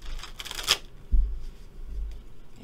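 Rider-Waite tarot cards are shuffled briefly, a quick papery riffle near the start and then a soft thump as the deck settles, with quiet surroundings.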